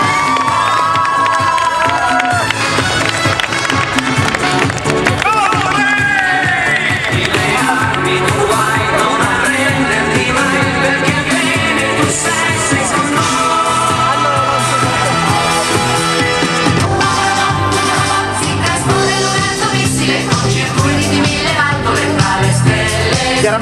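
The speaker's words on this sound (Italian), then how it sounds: "accogliamolo con un applauso" Cheering crowd at the Cospladya 2009 cosplay contest welcoming a contestant dressed as Actarus, loud and continuous shouting and whooping with music-like tones throughout.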